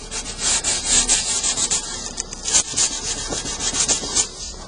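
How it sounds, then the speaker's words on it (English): Aggressive sandpaper scrubs file marks off a metal workpiece with steady, rhythmic back-and-forth strokes, a loud, close abrasive rasp and no voices. "Now this is very aggressive sandpaper. What we're doing is we're removing the file marks."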